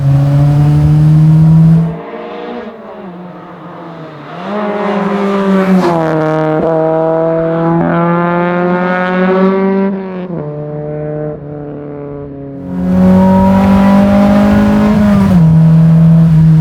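A classic Mini with a Honda Type R engine revs hard and climbs through gears, a loud buzzing drone rising in pitch, dropping briefly between shifts, then surging again.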